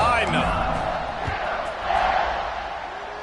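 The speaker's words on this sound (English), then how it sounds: "this crowd now ready to get behind them" Crowd cheering rises in a College Football 25 video game with Notre Dame, a loud, broad roar with some whoops and shouts, fading slightly mid-clip before swelling again, with a voice underneath.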